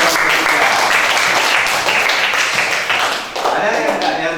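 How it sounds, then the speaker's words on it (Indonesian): Enthusiastic applause from a classroom audience for group 3 after their presentation, dense and loud throughout, with a brief dip near the end before the clapping swells again. "berikan tepuk tangan yang meriah kepada kelompok 3"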